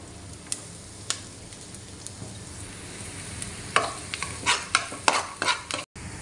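Onion and garlic frying in a little oil for chicken vegetable fried rice, a soft continuous sizzle with a few early clicks, then a run of louder stirring scrapes and knocks near the end.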